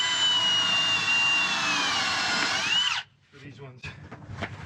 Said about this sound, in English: I'm going to put a screw in